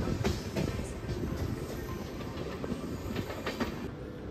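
An overnight passenger train runs on the Bangalore–Munnar route, a steady rumbling roll with faint clickety-clack of wheels over rail joints, heard from inside and alone.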